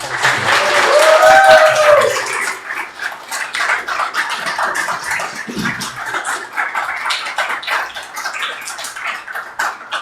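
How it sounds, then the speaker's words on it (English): Audience applause for a speaker at an indie lightning-talk event in a public library, a brief burst of clapping at the start that fades into scattered claps and murmuring room noise. "And so just a round of applause for Chris before he"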